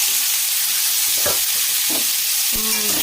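Steady, loud sizzling of young jackfruit frying in oil fills the whole stretch, with a few scraping stirs and clinks from a utensil.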